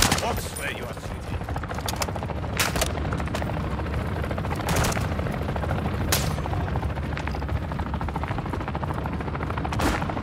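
Gunfire in Call of Duty Modern Warfare 2 DMZ PvP on Ashika Island, with loud, rapid shots and sharp bangs cracking over a constant heavy roar like a helicopter rotor throughout.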